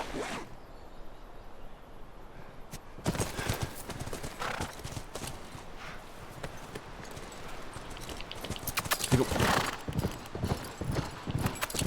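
Horses galloping in a video game, rhythmic clip-clop hoofbeats with an occasional whinny, fairly close and continuous, growing busier and louder in the second half.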